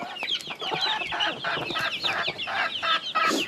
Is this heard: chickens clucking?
yes